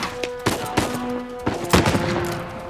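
Gunfire in the PS4 Pro game Uncharted 4, several sharp, loud, close shots cracking out in an irregular burst over a couple of seconds, with no speech over them.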